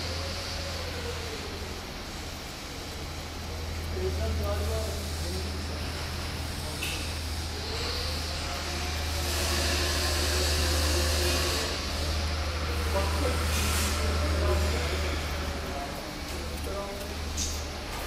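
A MiniSKY fiber blowing machine runs with a steady, loud mechanical whir and hiss, rising and falling slightly, while a person talks over it.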